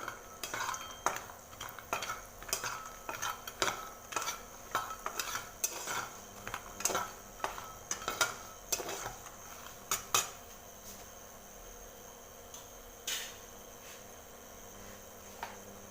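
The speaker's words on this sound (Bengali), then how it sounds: "এবার আমি এই তেলের মধ্যে বন্ধুরা আমি বড়ির ভেজে নেবো একটু বড়ি ভেজে নিলাম" Bori lentil dumplings frying in oil, a faint sizzle under a busy run of utensil scrapes and clinks against the pan that thin out in the second half, leaving a quiet fry with an occasional tap.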